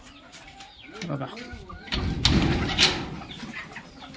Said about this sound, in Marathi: आणि तुम्हाला दाखवतो बघा आता मोठ्या कोंबड्या आपल्या